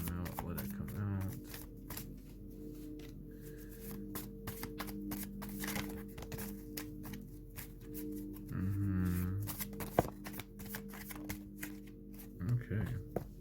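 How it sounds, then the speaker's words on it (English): Tarot cards being shuffled by hand, a run of repeated riffling and flicking rustles at close range, with a few brief murmurs and low background hum in between. "I'm gonna shuffle 5 times with each deck though."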